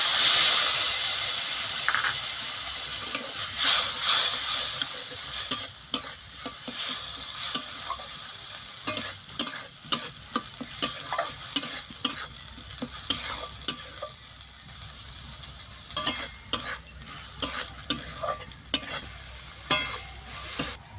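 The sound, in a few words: spice paste frying in oil being stirred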